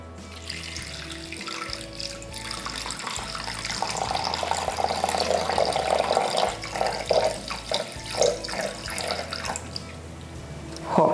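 250 grams of water is poured onto kitchen scales, a continuous splashing rush with a low hum underneath, growing slightly louder midway.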